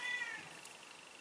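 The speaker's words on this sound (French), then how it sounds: "vous entendez le chat qui gueule derrière la porte" A cat meows from behind a closed door, a single drawn-out, muffled cry at the start that fades into quiet room tone.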